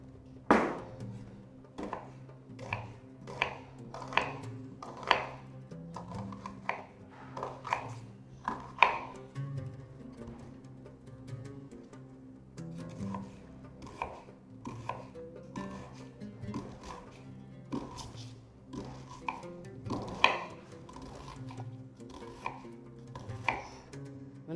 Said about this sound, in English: Next, chop the onions like this.